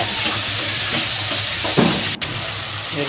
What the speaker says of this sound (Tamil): நல்லா பச்சை வாசனை போந்தட்டிக்கும் கிளறி விட்டுக்கோங்க.